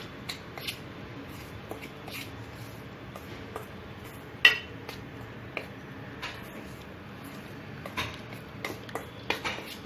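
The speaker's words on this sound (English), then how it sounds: "Now mix these ingredients." Ingredients for an Oreo cake are stirred in a bowl, giving soft scraping and light clinks of a utensil against the bowl at close range with no talking.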